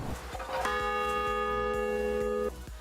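A single clear bell tone rings out for about two seconds with a sustained, ringing decay, fairly quiet and alone.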